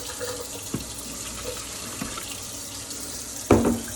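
One cup of water pours into a blender in a kitchen, a faint steady trickle running under the background, then a louder splashing burst near the end.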